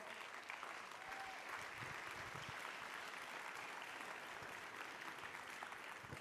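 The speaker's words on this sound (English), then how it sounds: "Big round of applause." Sustained audience applause fills a hall at a photography awards ceremony, steady and dense from start to finish, with no talk over it.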